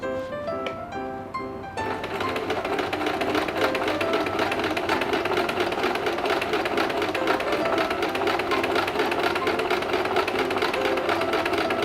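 A domestic sewing machine runs steadily through a zigzag stitch, a close, continuous mechanical whir and rapid clatter that starts after a short tonal opening and holds for the rest of the span.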